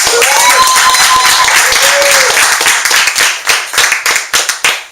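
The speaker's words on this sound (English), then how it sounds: "Why don't we give a hand clap to Lisa Messina?" A small audience at a leadership development gathering in a house claps for a speaker, starting as a dense patter under background chatter and thinning into a few loud, separate claps close by.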